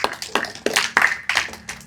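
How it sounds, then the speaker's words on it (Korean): A group claps in a few quick bursts of sharp, close hand claps in an uneven rhythm, with brief pauses between bursts and no talking over them. "박수 한번 해."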